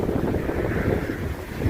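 Strong wind buffets the microphone outdoors while a tarp shelter is pitched in the woods, a continuous loud roar of gusty rumble without speech.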